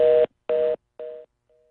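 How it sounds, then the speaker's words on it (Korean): A telephone line plays a busy tone after a call drops during a phone interview on a Korean talk broadcast, three loud, evenly spaced beeps followed by a faint fourth. "전화가 끊겼습니다. 다시 연결해 보도록 하겠습니다."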